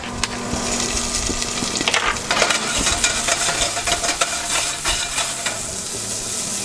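Onions sweating gently in fat in a pan for choucroute, giving a steady close sizzle with scattered crackles and the odd stir or scrape, alone without talk.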